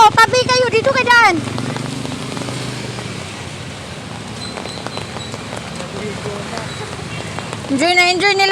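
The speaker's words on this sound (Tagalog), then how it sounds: "In-enjoy nila yung ulan." Steady rain patters on surfaces outdoors, continuous and fairly loud, with people talking and calling out over it at the start and end.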